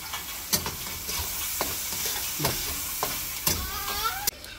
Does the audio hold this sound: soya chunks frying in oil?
yes